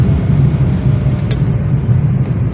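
A car travels along a road, heard from inside as a steady, loud low rumble of engine and tyres with no talk.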